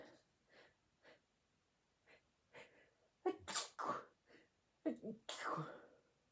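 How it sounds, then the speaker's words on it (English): Someone gives a couple of loud, close sneezes after soft breathy sniffs and faint whispery sounds indoors, with the sharp bursts clustered in the second half. "Oh, I gotta sneeze, I'm sorry."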